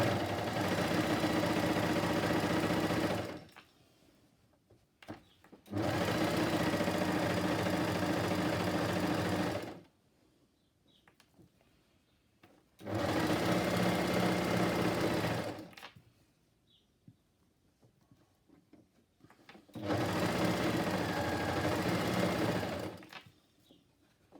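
Sewing machine stitching the turned-up hem of a coat from the right side, running in four long steady bursts of several seconds each with quiet pauses between, close and loud.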